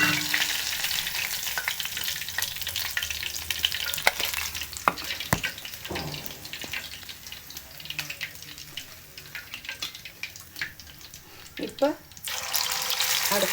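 Crispy masala-coated fish fries in oil, a continuous sizzle with scattered clinks and scrapes as pieces are handled and turned. A brief watery rush comes near the end, and a voice talks at times under the frying.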